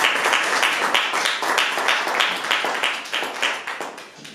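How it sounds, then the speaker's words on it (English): A high school business competition audience gives presenters a round of applause, lively clapping with a clear pulsing rhythm of hand claps, fairly close and loud, continuing unbroken with no talk. "Let's give them a round of applause."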